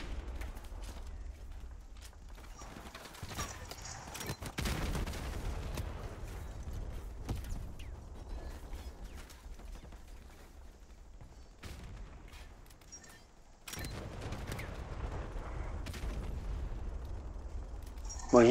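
C4 charges detonating in Call of Duty Modern Warfare Remastered, several heavy booming blasts spaced across the stretch with gunfire-like bursts and rumbling aftermath, someone speaking Portuguese over parts of it.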